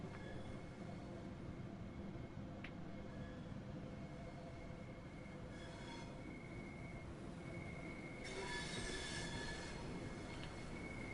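An HST high-speed train rolling along in Train Sim World 3, with a steady rumble of wheels on rail, a sustained drone and intermittent high squeals and hisses over the continuous running noise.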